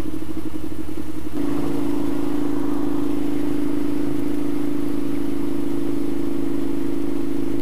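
A Ducati Monster motorcycle engine runs steadily and loudly throughout while riding, a deep, even drone after a brief change in tone near the start.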